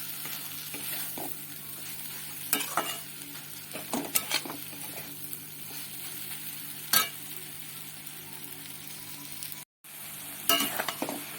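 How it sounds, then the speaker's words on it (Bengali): Lentils with turmeric and salt, along with potato and pumpkin, sizzle quietly in a pan as a utensil stirs them, giving sharp scraping clinks at irregular moments over a steady frying hiss. "এগুলো দিয়ে নেড়ে চেড়ে নিয়ে আমি যে আলু আর কুমড়োগুলো ভেজে রেখেছিলাম সেগুলো সব দিয়ে দেব।"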